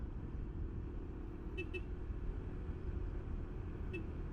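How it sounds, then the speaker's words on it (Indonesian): Bus passing along the Pantura road while riding a motorcycle on a homecoming trip, a steady broad engine and road rumble mixed with wind, with a few short horn toots over the top. "Ada bis lewat sini."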